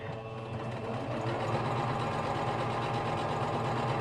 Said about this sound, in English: I want to go just across the top and sew it down